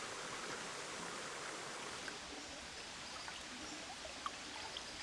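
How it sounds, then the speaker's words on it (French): A river flows deep in a Cambodian forest near Angkor, a soft steady broadband rush of running water with faint trickles, distant and even, with no voices. "au plus profond de la forêt coule la rivière Umilinga"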